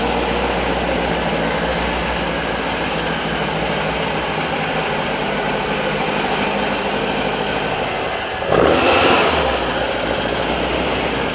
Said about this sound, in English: I just love the lumpy idle this 1700cc engine has